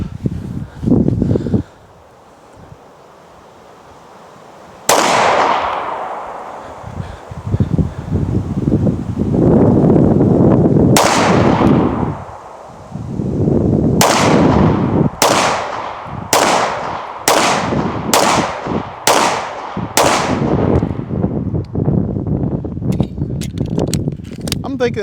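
Gunshots from a Cabot pistol fired at an outdoor range at about 15 feet: a lone shot, then a second, followed by a quick string of six sharp, loud reports with wind noise and rustling between them.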